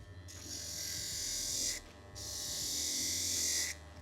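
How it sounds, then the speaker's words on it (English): A knife blade held against a fine 180 grit sharpening wheel, giving a steady high whirring grind that runs for about a second and a half, pauses briefly, then resumes, loud and close. "you can see by the grinding now how much smoother the grinding is with the 180"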